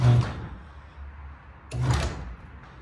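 A Liftmaster garage door opener raising a garage door, with two clunking impacts about two seconds apart, each followed by a brief mechanical rumble, nearby and moderately loud with no talking.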